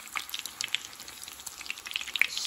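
Schnitzels frying slowly in a pan, a quiet, soft crackle of small scattered pops and light sizzling, fairly faint and without talk.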